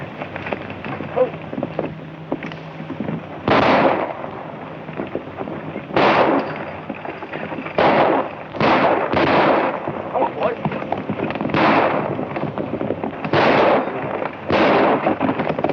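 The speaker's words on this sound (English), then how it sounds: "I want you to fire over their heads." Gunshots ring out in a classic 1935 western film, a series of sharp, loud cracks spaced a second or two apart over a hissing, noisy background.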